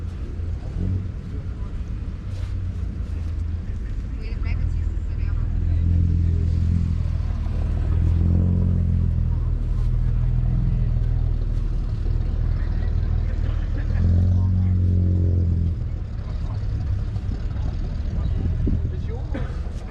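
A small car with a big engine idles at an outdoor swap meet, giving a steady low rumble with a couple of swelling revs, while muffled voices talk nearby.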